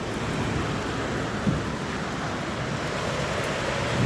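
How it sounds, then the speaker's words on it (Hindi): Heavy rain pours in a steady, dense roar, loud and continuous with no pauses and no voices over it. "वहाँ पे ऐसी गंदी बारिश हो रही है ना"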